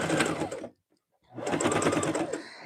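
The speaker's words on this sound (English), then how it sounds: "we're going to sew all the way around" A sewing machine stitches a seam through four layers of fabric for a soup bowl cozy. It runs in two close, steady bursts of rapid needle chatter with a brief silent pause between them.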